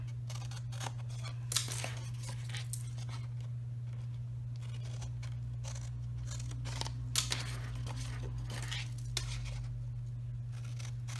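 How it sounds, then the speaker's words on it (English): Scissors snip through paper tabs up to a score mark while a lemon zest gift bag is made: a run of sharp, crisp, irregular cuts, close and clear, over a steady low electrical hum. "we're going to cut up the rest of them to that same score mark"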